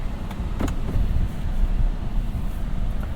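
A 2021 Buick Envision AWD engine runs at a steady low rumble, with a few faint clicks over the hum, heard from inside the cabin and without talk.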